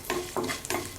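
Urad dal and mustard seeds frying in oil are stirred in a pan over low heat, giving three short scraping strokes over a soft, steady sizzle, close and fairly quiet.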